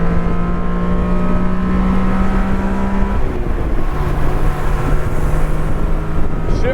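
A 1991 Honda Beat's small engine revving hard at full power gives a steady, loud, droning whine that holds its pitch, then shifts to a slightly lower tone partway through, close by and with no speech.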